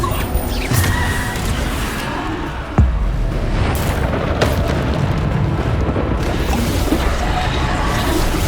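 Bombarda explosion spells in the Hogwarts Legacy video game, loud and continuous, with a dense rumbling blast bed and a sharp boom near the three-second mark, followed by further crashing impacts.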